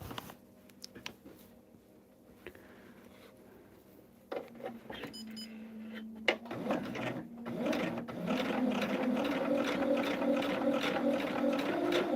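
A sewing machine stitches a quilted table topper, starting with faint mechanical clicks and then running steadily and loudly in a continuous whir for several seconds.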